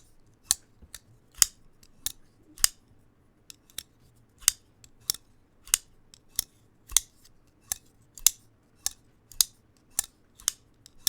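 A Benchmade Narrows thin folding knife snaps open and shut repeatedly, giving a steady series of sharp, close, loud lock clicks about every half second with nothing else heard.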